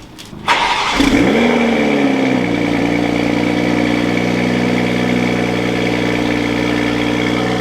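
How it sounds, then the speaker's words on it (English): A manual Toyota Supra with a high-flow catted downpipe cold-starts up close: a brief starter crank, the engine catching with a loud flare of revs, then settling into a steady, droning high idle. "we'll do a first startup just to hear it under cold start and kind of see what it sounds like"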